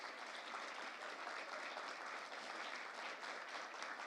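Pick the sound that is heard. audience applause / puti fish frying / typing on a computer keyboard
audience applause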